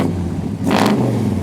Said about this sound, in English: sound and dual exhaust